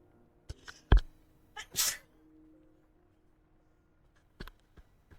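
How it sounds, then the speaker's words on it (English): A single sharp sneeze from someone with a stuffy, sore face, close and fairly loud, surrounded by a few soft clicks and small handling noises in an otherwise quiet room. "I've been sneezing a lot"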